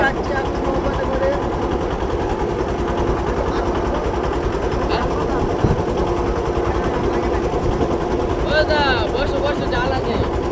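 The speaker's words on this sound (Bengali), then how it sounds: "সুন্দরবন যাচ্ছি এখন নৌকাতে করে" A boat engine drones steadily and loudly on a trip to the Sundarbans, a constant mechanical rattle throughout, with people talking over it and brief high chirps near the end.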